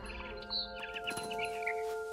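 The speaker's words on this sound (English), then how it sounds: "Then I heard chirping outside my window." Bright, repeated bird chirps and tweets from the game What Remains of Edith Finch sound over a steady electronic tone and background hum, close and clear.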